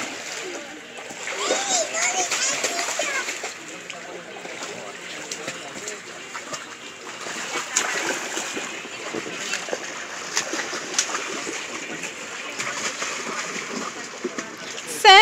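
Child splashes while swimming in water, a continuous busy churn of splashes and sloshing close by, with people talking over it.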